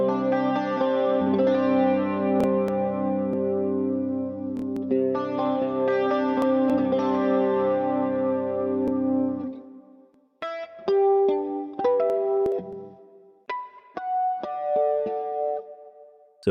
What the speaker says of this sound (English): The next one is the same amp, but with the bright switch turned on.